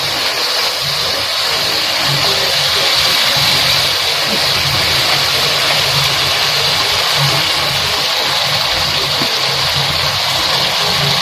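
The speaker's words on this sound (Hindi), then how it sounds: "अब हम इसमें पानी ऐड करते हैं।" Water poured steadily into a pot of chickpea pulao with roasted chickpeas and spices, a loud continuous rushing gush that carries on without a break.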